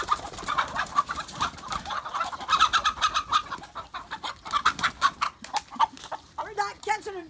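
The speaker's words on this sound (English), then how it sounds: "There's chickens over there." Chickens on a farm cluck in quick, repeated bursts that run continuously and fairly close.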